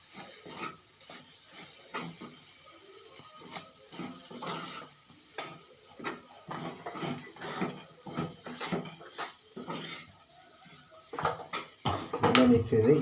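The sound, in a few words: stirring fennel and masala powder mixture in a pan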